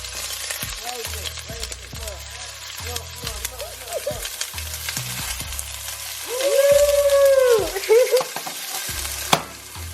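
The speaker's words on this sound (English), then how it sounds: "So we're going to put the onion in the pan." Onion hitting a very hot pan and frying, with a steady loud sizzle and clattering spoon stirring that swells into a hiss partway through, no talk over it.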